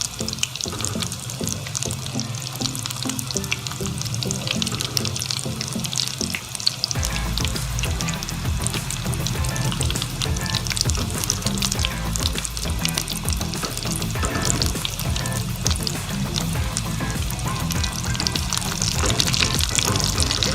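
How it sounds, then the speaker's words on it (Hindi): Potato cheese balls deep-frying in hot oil, a dense, steady bubbling sizzle that stays loud and close throughout with no talking, growing fuller and heavier partway through. "तकरीबन 2 से 3 मिनट हमने एक साइड से फ्राई किया है इसे"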